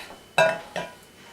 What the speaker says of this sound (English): Actually, maybe I'll give it a stir first, then mix and chop it when it starts to cook a little bit.